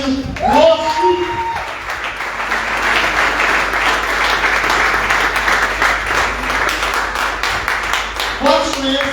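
Church congregation applauding at a worship conference, sustained dense clapping filling the room for several seconds, with brief speech and music at the start and end.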